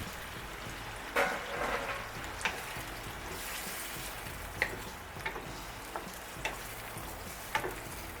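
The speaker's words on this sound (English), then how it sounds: "let our alligator fry up and our pasta cook" Alligator meat frying in a pan with white wine: a steady, soft sizzle runs throughout, broken by several sharp clinks and scrapes of stirring, with no speech.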